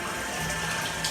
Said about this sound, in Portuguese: É chuveiro, é chuveiro.